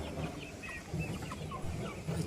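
Chickens cluck in short low bursts around a farmyard, with a rooster among the flock, moderately close and steady over a faint background.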